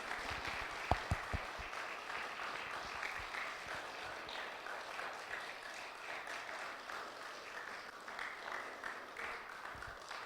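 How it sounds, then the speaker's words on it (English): An audience at a children's school play about Betsy Ross applauds, a steady wash of many hands clapping that carries on for about ten seconds with a few sharper claps near the start. "Can we get another round of applause for wonderful kids?"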